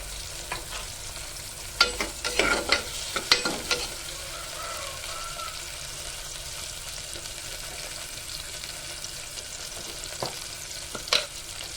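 Cinnamon, cloves, fennel seeds, shallots and tomato frying in a pan for mutton curry, a low steady sizzle with a few louder scraping stirs near the start and again near the end, no talking.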